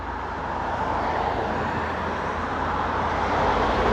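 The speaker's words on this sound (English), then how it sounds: "That's not a healthy sounding car going by. It sounds like a shopping cart" A car with an unhealthy, rattling sound passes by outdoors, a steady broadband road rumble that swells slightly toward the end, fairly loud and continuous with no talk.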